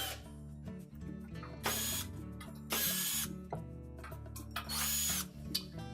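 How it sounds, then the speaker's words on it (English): A power drill runs in short bursts while removing screws from the lower back panel of a Frigidaire range oven, with whirring spins separated by ratcheting clicks and handling noise, close and alone. "just remove the screws from the lower back panel"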